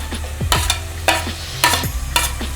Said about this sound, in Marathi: मिरच्या दोन मिनटं आपण व्यवस्थित परतून घेणार